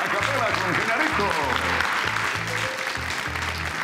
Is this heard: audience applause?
yes